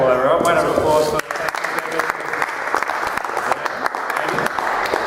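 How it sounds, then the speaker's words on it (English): Audience applause at a cricket show breaks out after a brief voice, dense clapping from a crowd continuing steadily to the end with a few louder individual claps. "Round of applause for"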